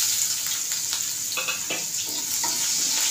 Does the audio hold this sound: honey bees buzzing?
no